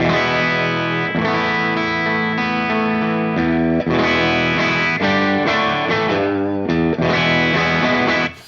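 Electric guitar on the bridge pickup through a clean amp channel, bright and full in tone, strums chords steadily, ringing and sustained, then cuts off at the end.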